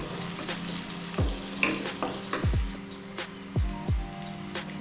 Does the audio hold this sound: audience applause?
no